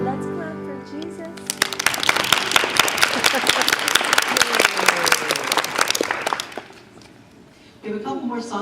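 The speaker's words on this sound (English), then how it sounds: "Let's clap for Jesus." A congregation claps together at a church birthday celebration for Jesus, sharp individual claps building into a lively round that lasts about five seconds before fading, with singing and voices on either side.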